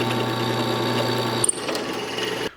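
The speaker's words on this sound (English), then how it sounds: "I'm just using a general purpose titanium drill bit to drill through this about 3/8 inch plate" A power drill with a general-purpose titanium bit bores through roughly 3/8 inch steel plate, a steady close whine for over a second, then a brief clunk and quieter intermittent grinding before stopping.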